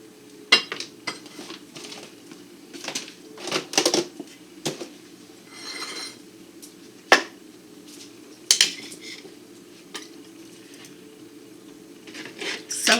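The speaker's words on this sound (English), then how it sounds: "I'm just going to trim off the edges." Knife trimming the edges of food on a kitchen cutting board, with sharp irregular knocks and scraping cuts close by, scattered with uneven gaps over a quiet kitchen background.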